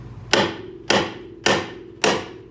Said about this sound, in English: I'm not hitting too hard at first because usually these just pop right out on the top